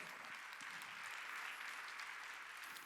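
A church congregation at a Wednesday worship service claps together in sustained, dense applause, a steady wash of hand claps at moderate distance.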